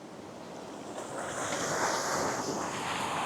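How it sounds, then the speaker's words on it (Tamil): Sea waves crash and strong wind roars along an eroded beach road on the Jaffna coast. The surf is a loud, continuous wash that swells louder after the first second, with gusty wind buffeting the microphone and no voices. "எவ்வளோதுக்கு அலை அடிக்குது எவ்வளோது காற்றடிக்குது"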